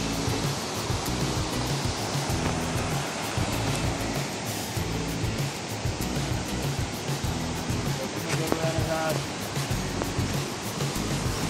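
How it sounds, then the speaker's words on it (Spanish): Waterfall at San Rafael, Antioquia, a broad steady roar of falling water close by that fills the whole stretch with constant rushing noise, with no talk over it. "Cascada, la onda cascada."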